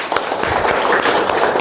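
An audience claps for an agrotech company, a short burst of dense, steady applause from many hands with no talking.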